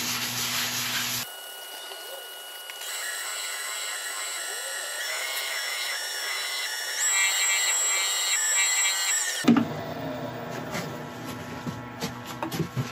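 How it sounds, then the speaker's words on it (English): A woodturning lathe spins steadily while True Grit abrasive paste is rubbed onto the turning piece, giving a high, even whine with a soft rubbing hiss. Harsher, busier workshop noise sits at the start and end. "I'm now going to go on with an abrasive paste. We're still using that True Grit abrasive paste"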